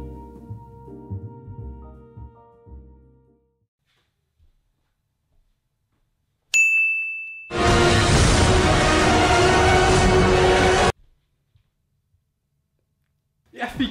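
A single bright notification ding sounds mid-way, a short ringing tone followed by a long burst of loud broadband noise, with speech and other sounds earlier and quiet gaps around it.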